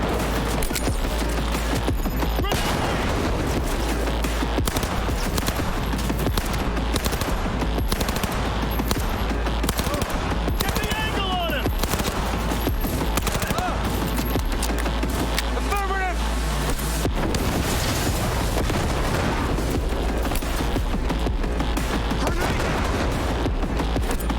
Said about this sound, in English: I'm gonna use all my grenades.